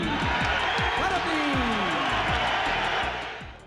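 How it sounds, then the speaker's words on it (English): Arena crowd at a 1995 boxing bout with Butterbean facing Pat Jackson, roaring and cheering in a dense, continuous wash, with a commentator's voice rising over the noise throughout. "Ladies and gentlemen, big round of applause for Butterbean."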